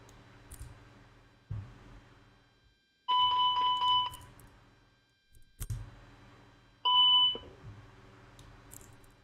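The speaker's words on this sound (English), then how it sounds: "Okay, that was beeping." A 737NG cockpit APU fire test warning sounds in Microsoft Flight Simulator, with two loud, steady electronic beep tones about a second each, separated by clicks and a quiet background hum.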